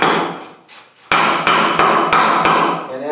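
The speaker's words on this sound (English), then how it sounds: "get this board under here and then hammer it in" A hammer drives a board into place on a homestead building, landing five sharp, evenly spaced blows close by after a brief softer tap, each strike ringing out loudly and alone.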